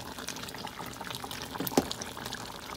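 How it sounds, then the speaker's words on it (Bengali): Water pours into a spice mixture in a cooking pot, a soft close trickle and splash lasting a few seconds, fairly faint and without talk. "এবার এর মধ্যে দিয়ে দেবো জল"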